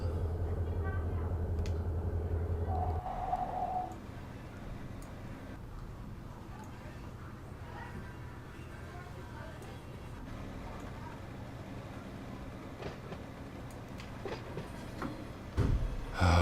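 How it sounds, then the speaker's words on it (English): A freight train rolls slowly along rails in a railroad simulator game, a steady low rumble with faint clicking and ticking that continues for the whole stretch, starting under a brief louder hum. "Back of the train's moving."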